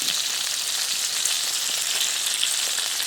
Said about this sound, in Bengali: এই মাছটাও এরকম সুন্দর করে ভেজে নিচ্ছে আর এই মাছগুলো একটু নেড়ে চেড়ে দিলেই দেখুন কেমন গুটিয়ে গুটিয়ে যায়